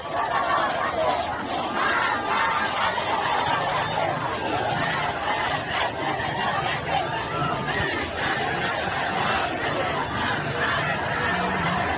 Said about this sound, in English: Death to Khamenei, they chant.